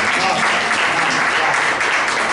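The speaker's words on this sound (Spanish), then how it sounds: "fuerte el aplauso para la madre." Loud, dense applause from an audience at a guitarist's live performance in Zapala, sustained without a break through the short clip.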